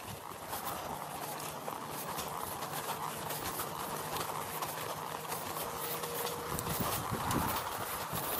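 A horse in training clip-clops in a steady rhythmic gait over a continuous background hum, moderately close.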